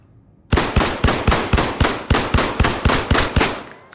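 Rapid regular gunfire at a shooting range in the video game Zero Caliber, about a dozen loud close shots evenly spaced over a few seconds, each with a short echoing tail, then silence.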